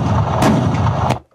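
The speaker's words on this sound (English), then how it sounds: "I think we're talking about Stokes mortar bomb." A Stokes mortar bomb lands with a deep, flat, booming thud, one sustained loud blast with a couple of sharp cracks inside it before it cuts off.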